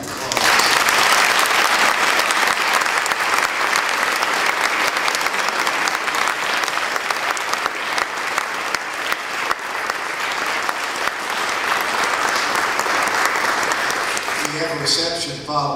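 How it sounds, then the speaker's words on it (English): A large audience at a school lecture event gives a big, sustained round of applause, loud and steady throughout, with a voice starting up just at the end. "let's give a big round of applause"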